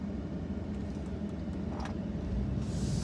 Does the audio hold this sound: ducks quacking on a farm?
no